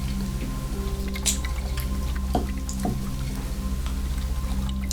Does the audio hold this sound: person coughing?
no